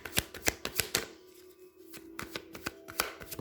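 Tarot cards being shuffled by hand, a close, fairly quiet run of rhythmic riffling slaps with a short pause in the middle before the flicking resumes, no talking.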